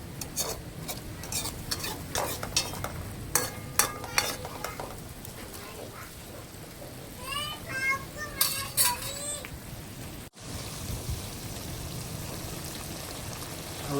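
Prawns cooking in hot oil in a pan give a soft continuous sizzle with scattered stirring clatters, a brief snatch of voice partway through, then a quieter steady hiss.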